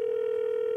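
A steady telephone dial tone hums while a call is being placed on a comedy show, a single unbroken pitch held alone and clearly.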